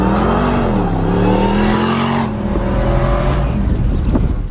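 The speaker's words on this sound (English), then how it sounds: "and the real special part is the engine" A customized matte black Jeep Gladiator with huge tires and a military-style grille roars loudly, its engine note sweeping up and down through revs before harsher, gritty bursts toward the end, no talk.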